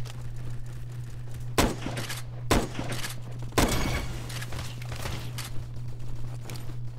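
Rifle shots in a video game: three sharp, loud single cracks spaced a second or so apart over a steady low hum and faint background noise, with no talk.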